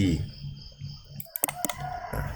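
A computer mouse is right-clicked on a Windows desktop icon, giving a short run of sharp, close plastic clicks in quick succession amid quiet room tone, with a low voice briefly at the start.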